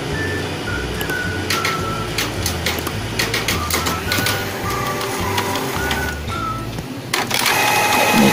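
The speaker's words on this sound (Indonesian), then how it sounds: "Saya akan melakukan tes print ulang." A Canon IP2770 inkjet printer runs a test page, close by, with a continuous mechanical whir, repeated rhythmic clunks of the paper feed and print head, and short high whines as the carriage moves.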